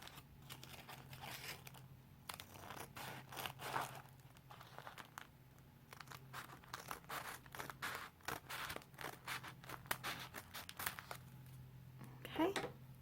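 Quiet snips and soft paper crinkling come from scissors cutting the end off a folded coffee filter for a no-sew face mask. A person talks over the cutting throughout.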